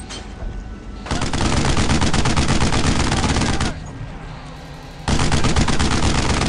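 Dense rapid gunfire and machine-gun bursts from a World War II battle in the video game Brothers in Arms, loud and continuous, with a brief lull near the middle before the shooting resumes, over faint shouted voices.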